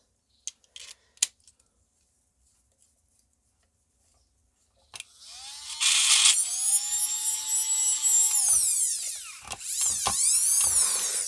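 A repaired electric nail file machine whirs into life after a few light clicks, its loud high-pitched motor whine sweeping up and down in speed in a steady run.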